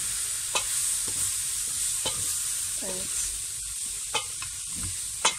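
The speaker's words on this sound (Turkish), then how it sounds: "şu taraftan daha iyi karıştıracağım" Stirring a pot of Turkish olive-oil fava bean stew, soft scraping strokes with a few sharp clinks of a spoon against the pot over a low sizzle, close and fairly quiet.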